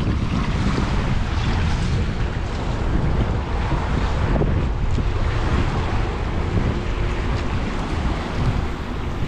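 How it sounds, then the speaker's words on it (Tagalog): Strong wind at sea buffets a fishing boat, a loud, constant roar of gusts and microphone rumble mixed with the wash of waves, without any voices. "Lalo na mas malakas po yung hangin."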